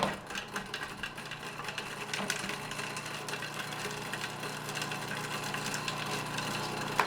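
A blender whirs steadily as it blends garlic for hummus, a continuous mid-level motor hum with a gritty, rattling texture that carries on throughout, with no voices.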